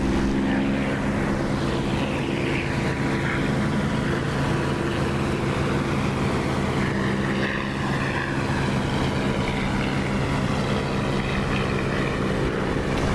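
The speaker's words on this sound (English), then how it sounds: "I think you will probably notice a difference with the sound as soon as you start the aircraft's engine." A propeller aircraft engine in the DCS flight simulator game drones loudly and steadily, a continuous buzzing roar with pulsing propeller tones that shift slightly in pitch, heard alone without talk.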